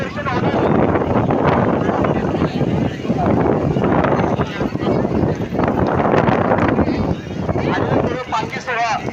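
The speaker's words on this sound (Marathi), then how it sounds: "सावकाश वारा लय सुटलंय." Strong wind buffeting the microphone amid a crowded palkhi procession, a loud continuous rumble and gusting roar mixed with voices talking throughout.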